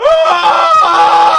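A voice imitating video game zombies screaming as they burn, a loud, strained wailing cry that rises and wavers for over a second.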